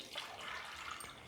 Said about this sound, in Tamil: கொஞ்சமாக தண்ணியும் சேர்த்துட்டு